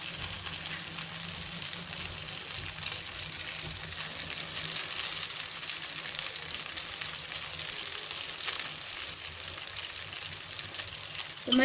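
Vegetable kuzhi paniyaram frying in a paniyaram pan, a soft, steady sizzle and crackle of oil that continues evenly throughout at low level, with a small clatter at the very end.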